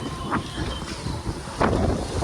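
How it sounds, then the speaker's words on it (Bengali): Strong wind from Cyclone Remal rushes past outdoors as rumbling microphone buffeting, with two brief louder gusts breaking through the steady roar. "আর হাওয়া দিচ্ছে প্রচণ্ড পরিমাণে।"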